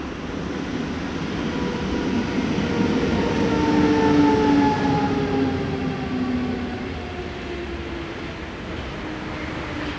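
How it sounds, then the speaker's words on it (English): Swiss Class 450 local train on the Brugg–Schaffhausen service arriving with a steady rumble and whining tones, while a German ICE set overtakes in the background, rising slightly mid-way then easing, no voices. "Four 450-110 arrives with one of the hourly local services between Brugg and Schaffhausen. A German ICE set overtakes in the background."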